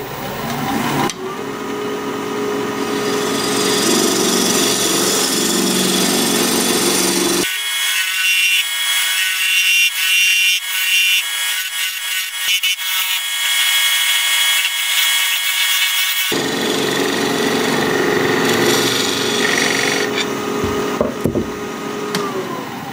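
A wooden blank spinning on a wood lathe as its face is flattened, a steady loud scraping and cutting whine that drops to a thinner, higher tool hiss for several seconds in the middle before the full cut resumes.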